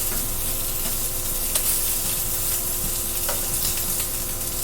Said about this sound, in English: So these sausages are almost ready. I'm cooking these on a medium-high heat.